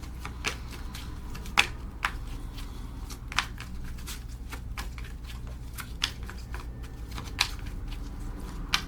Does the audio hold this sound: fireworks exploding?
no